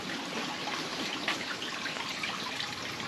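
Water trickles steadily through a hydroponic greenhouse system with Dutch buckets and floating rafts, a soft continuous dribbling wash with faint irregular splashes, fairly quiet and close, with no voices.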